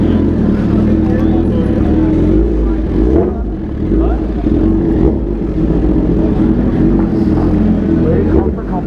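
A motorcycle ridden along, its engine giving a loud, continuous close rumble with slight rises and dips in pitch under a rider's voice.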